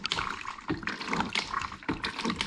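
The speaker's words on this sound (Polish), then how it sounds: "Po drugiej stronie mamy pompkę do spłuczki." Portable camping toilet for a camper van being flushed with its hand pump, water rushing and splashing into the bowl in repeated pumped surges, close and fairly loud.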